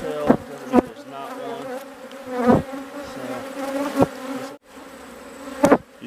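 Honey bees buzz steadily at close range around a swarm hive's comb, a dense droning hum broken by a few sharp bumps and knocks.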